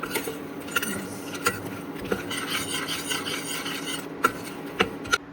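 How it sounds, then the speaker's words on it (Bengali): Makhana (fox nuts) dry roasting in a pan give off a continuous dry rasping scrape from stirring, broken by a few sharp taps and clicks, close and fairly loud. "এই যে মাখনাগুলো ড্রাই রোস্ট করছি"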